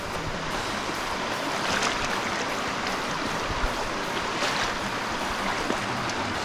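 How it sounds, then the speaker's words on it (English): Shallow, fast-moving brown stream water rushes around knee-deep legs on the Nature Coast Trail, a steady close-up wash of broadband flow with no speech. "The water is really moving."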